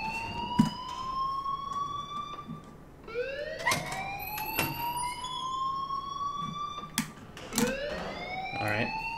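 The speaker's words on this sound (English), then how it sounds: "please turn off that alarm since that's your job" A wailing alarm siren in the video game Life is Strange, repeating rising electronic sweeps over about nine seconds, loud and steady with sharp clicks between cycles.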